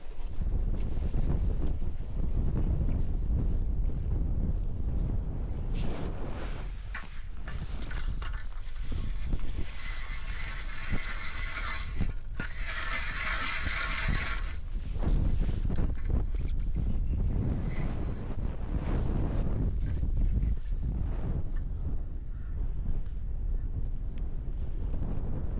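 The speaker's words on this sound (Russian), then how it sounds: "Вот такой сегодня ветер." Hard wind blows on a fishing trip on open water, buffeting the microphone in a continuous loud roar with gusty surges and rumbling low-end bursts. A brief stronger whoosh rises midway, and the wind stays on its own without talk throughout.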